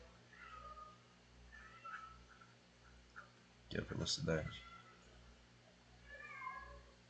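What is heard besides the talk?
cat meowing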